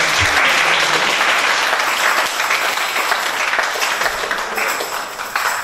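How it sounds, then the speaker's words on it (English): An audience at a competition awards gathering claps loudly and continuously for all the participants, a thick, even wash of applause lasting several seconds with no talking. "So let's clap for all of them"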